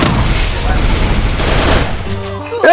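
Loud, dense bursts of rapid gunfire fill a shooter video game battle, near and continuous, with a brief voice or tonal sound at the end.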